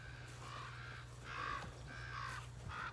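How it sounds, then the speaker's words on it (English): Several crows caw in repeated harsh calls, fairly close, over a pig pen, over a low steady hum. "I can see there's a whole bunch of crows over in the pig pen over here."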